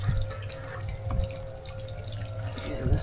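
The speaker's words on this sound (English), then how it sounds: "the water from the pump's got to kind of go through that." Water from a pump running through a homemade pond filter, soft trickling and dripping with a low steady hum underneath, close and fairly quiet with no talking.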